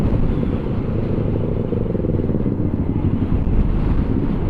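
Strong wind roars steadily over the microphone of a motorcycle riding on a dark, drizzly morning, with low engine rumble underneath, loud and unbroken throughout.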